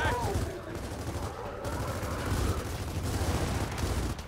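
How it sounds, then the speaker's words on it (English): Continuous rattling gunfire from blind firing in Gears of War 4's insane campaign, dense and steady under a noisy combat bed. "Oh, I'm blind firing."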